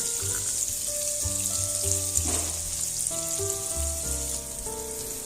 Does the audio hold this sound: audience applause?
no